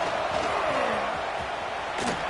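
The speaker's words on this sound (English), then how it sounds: "this crowd is fired up. Listen to this noise here." Roaring stadium crowd in an American football video game, a dense continuous wash of cheering that persists under a commentator's voice throughout.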